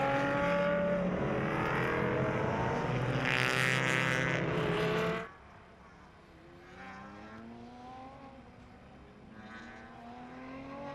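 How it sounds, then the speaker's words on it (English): Race cars in the SCCA Runoffs Touring 2 field at VIR circling behind a blue Chevrolet Camaro pace car, a loud steady engine drone that cuts off abruptly midway, leaving fainter distant engine sounds. "Field working its way around behind the pace car, that beautiful blue Chevrolet Camaro."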